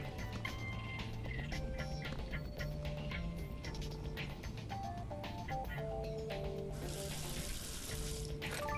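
In the Adventure Time video game, a tap fills a pot with water as a steady running gush under a bright melodic game score, ending in a brief sharper burst of spray.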